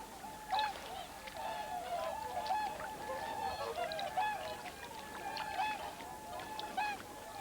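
Swans gathered on thermally heated winter lakes in Japan, a dense chorus of honking, trumpeting calls from many birds at middle distance, overlapping continuously with no talking.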